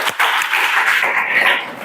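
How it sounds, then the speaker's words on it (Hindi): Students in a police recruitment coaching class clap together, a loud, dense burst of clapping that carries on for a couple of seconds, with a brief thump near the start. "ताली बजाओ।"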